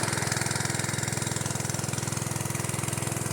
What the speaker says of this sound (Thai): ฝนตกหนัก น้ำท่วมเขา ก็เลยมาตั้งเครื่องไว้สูบครับ